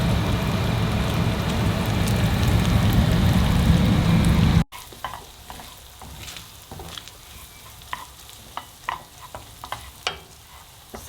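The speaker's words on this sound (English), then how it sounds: "Gently fry that. Well, not so gentle, but fry that" Pork mince fries in a hot pan, first a loud dense sizzle, then after an abrupt cut a quieter crackling spatter with scattered pops and stirring scrapes, no voices.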